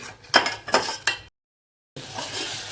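Apple pieces sautéing in a pan for apple kheer, heard as a few clinks of a spoon against the pan in quick bursts, then a short silence and a softer stretch of stirring noise.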